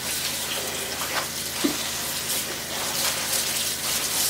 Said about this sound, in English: you basically just fill up your sink